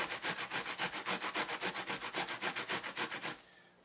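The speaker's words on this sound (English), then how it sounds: "Simply grate it. Grate about half of an entire garlic." Fresh raw garlic scraped back and forth on a grater gives a quick, even run of about twenty rasping strokes, close and fairly quiet, before stopping abruptly.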